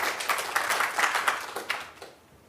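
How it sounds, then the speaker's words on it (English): Audience applause at a university medical research week session, a moderate patter of clapping from a room of people that builds briefly and then fades out over a couple of seconds. "can I have a round of applause for Rosalie?"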